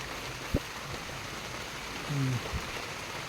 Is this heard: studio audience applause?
no